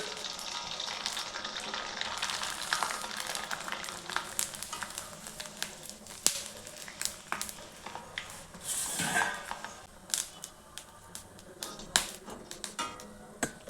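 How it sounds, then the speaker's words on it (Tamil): Sun-dried vathal snacks fry in hot oil with a steady, dense sizzle and crackle throughout, punctuated by sharper pops and occasional light scrapes of a utensil. "இப்போ நம்ம வந்து இதை பொரித்து எடுத்து காமிக்கிறேன் பாருங்கள்"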